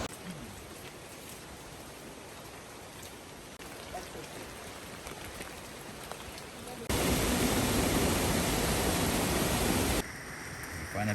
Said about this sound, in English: it has been raining the entire time